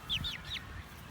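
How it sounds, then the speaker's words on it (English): A black and white backyard hen gives three short, rising clucks in quick succession, soft and fairly close, with quiet rustling underneath. "there's Daisy, the black and white chicken"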